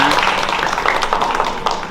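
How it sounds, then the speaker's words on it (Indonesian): Applause from an event audience, dense broadband clapping filling the whole stretch at steady loudness, with no voices standing out. "Tepuk tangan buat kalian semuanya."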